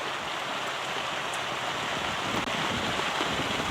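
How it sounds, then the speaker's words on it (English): Heavy rain pours steadily on a safari drive at sunrise, a dense, even hiss filling the air with no break and no voices. "That's the rain getting tougher now"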